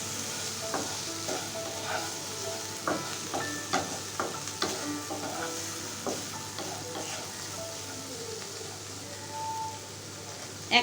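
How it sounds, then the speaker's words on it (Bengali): Tangra fish, salted and coloured with turmeric, fry in a little oil in a pan: a steady, close sizzle runs throughout, broken by scraping and clicking stirs. "এক থেকে 2 মিনিট আমি মাছগুলো একটু ভেজে নেব।"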